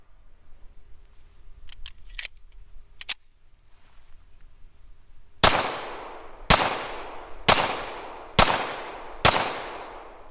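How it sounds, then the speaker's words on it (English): Five shots from a Tisas 1911A1 pistol firing Remington 230 grain Golden Saber hollow points ring out in a steady sequence, each a sharp loud crack with a decaying tail, after a few faint clicks and a high background whine. "first up for the hollow point test is going to be 5 rounds of the Remington 230 grain Golden Sabers"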